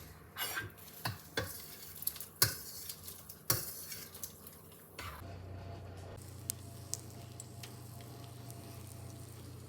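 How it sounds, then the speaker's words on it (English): Cooked noodles for fagioli soup poured into a strainer at a kitchen sink: a run of sharp clatters and knocks, then a steady loud rush of water and steam draining through. "I'm going to strain these noodles."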